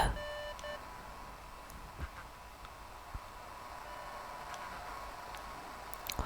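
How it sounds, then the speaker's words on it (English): A walkie-talkie in the video game Beacon Pines gives a few faint electronic beeps at the start, then soft ticks and clicks over a quiet hiss. "So we rejoin Luca as he's woken up by the walkie-talkie beeping"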